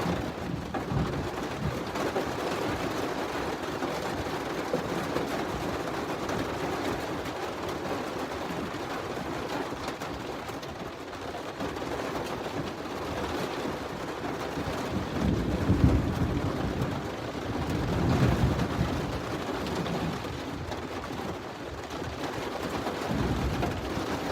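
A live thunderstorm during a tornado outbreak in Alabama, with frequent lightning: a dense, constant wash of rain and wind noise, with deeper thunder rumbles swelling around the middle and fading again, and no speech.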